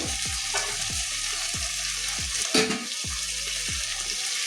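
Okra sautéing in the oil it has released gives a loud, continuous sizzle, broken by regular scraping strokes of a spatula stirring the pan about every half second.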